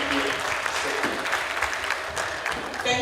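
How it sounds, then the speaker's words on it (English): A crowd at a graduation ceremony claps in a dense, continuous round of applause, steady and moderately loud across the hall. "I believe he deserves another thunderous round of applause"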